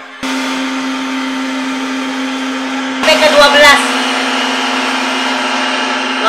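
An electric mixer beating lapis legit cake batter whirs steadily at close range, with a short rattling, clattering patch partway through; a voice speaks briefly over it.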